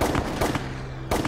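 A volley of rifle gunfire follows an order to fire in a Korean War documentary setting, with three sharp, loud, close reports spaced unevenly over a noisy background.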